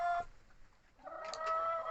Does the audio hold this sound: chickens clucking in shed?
yes